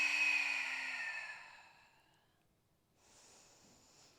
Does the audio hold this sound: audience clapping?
no